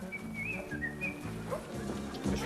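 Someone whistles a short, wavering tune in bright, high notes over a low, steady background drone.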